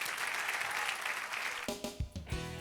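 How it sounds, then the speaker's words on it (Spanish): A church congregation applauding after a sermon, a dense wash of clapping that thins out and fades into a few scattered, more distinct claps near the end. "Dale un aplauso al Señor."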